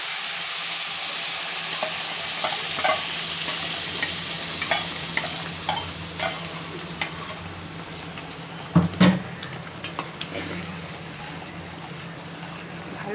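Ground turmeric, salt, coriander and chilli powder with a paste are stirred in a hot pan for palak paneer, giving a steady sizzle with a series of spoon scrapes and taps, one louder clatter midway.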